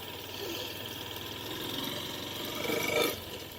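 A Honda Hornet motorbike engine runs with a steady, close mechanical drone that swells slightly toward the end, heard outdoors on a tour of Kuakata.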